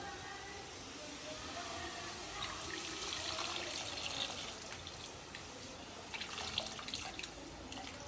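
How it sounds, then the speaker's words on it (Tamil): Tamarind water is poured into a cooking pan, giving a steady splashing, hissing liquid pour that runs for several seconds at a soft, close level, with a person talking over it. "இப்போ புளி தண்ணி ஊற்றிடலாம்"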